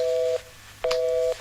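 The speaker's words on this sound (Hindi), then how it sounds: "फोन कट गया।" A telephone line cut off during a call in an Indian comedy scene: two loud, steady electronic beeps, each about a third of a second long, separated by a short silence.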